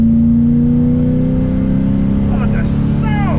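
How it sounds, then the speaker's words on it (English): A 1973 Dodge Charger with a 340 engine held at full throttle gives a loud, steady in-car engine drone with rising tone, constant and close, with a voice cutting in near the end. "I'm gonna floor it again."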